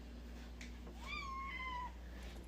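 A single cat meows close by, a clear rising then slowly falling call lasting about a second, over quiet room hum with no talk.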